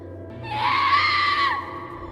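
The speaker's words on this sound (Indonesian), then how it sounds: "Sun mendengar teriakan Ichika" A girl in a film lets out one sharp, high scream that rises, holds for about a second and cuts off, loud and close with low background hum.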